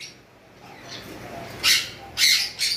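Green Fischer's lovebirds in a caged pair give a few short, sharp chirps near the end, over a quiet indoor background with a faint murmur of voices.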